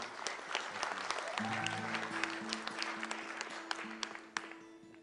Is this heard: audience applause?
yes